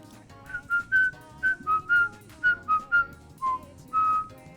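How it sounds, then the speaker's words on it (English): A melodic whistled tune from the video game Persona 3 Reload, short and sustained notes over a soft musical backing, played in a bouncy, phrased rhythm. "the whistling is surprisingly well written out"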